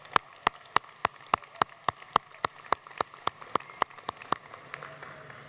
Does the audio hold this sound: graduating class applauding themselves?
yes